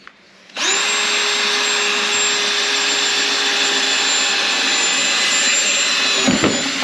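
A power drill whines at steady high speed, loud and close, boring bolt holes through a Miata for a race wing mount, starting abruptly and holding a constant pitch for about six seconds before stopping.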